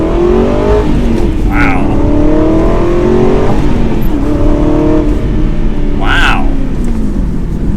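An Aston Martin Vantage GT with a manual gearbox accelerates hard, its engine note climbing steadily in pitch with a brief drop at a gear change before climbing again, loud and close from inside the cabin, with a voice exclaiming briefly.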